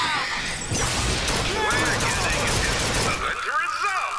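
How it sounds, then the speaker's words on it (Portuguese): A burst of gunfire in the video game BioShock Infinite, dense and loud, with crashing impacts through most of the clip and a voice talking over it. "Tomou uma rajada de tiro."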